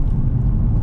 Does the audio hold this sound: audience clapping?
no